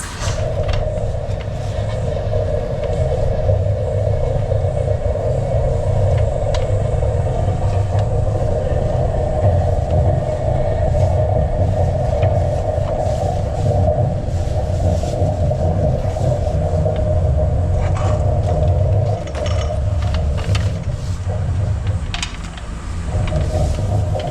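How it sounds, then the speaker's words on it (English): Drain cleaning machine running steadily while cutting tree roots inside a 6-inch underground pipe, a loud continuous motor drone with a low rumble and a mid hum, with scattered clicks and knocks throughout. "Cut out those roots there until we get to the other corner there where we opened it near the clothesline."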